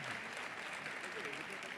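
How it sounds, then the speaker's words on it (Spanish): Steady applause from a church congregation fills the short stretch, dense and even throughout, with a voice faintly mixed in underneath. "Vamos a aplaudirlo una vez más."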